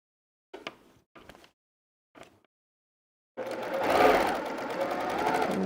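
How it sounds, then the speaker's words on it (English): Quilt pieces being stitched on a sewing machine: a few short bursts of the needle running, then a steady continuous whir of stitching along the seam, close up with no talk. "Anytime I get to a seam that's exact, I sew up to where the pin is"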